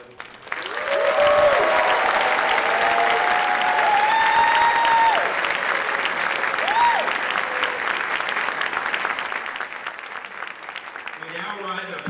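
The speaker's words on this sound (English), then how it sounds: "Ladies and gentlemen, one last round of applause, your 2022 Senior Award." A round of applause fills a high school senior awards ceremony, steady and loud for about ten seconds before tapering, with faint talk and music-like tones over the clapping.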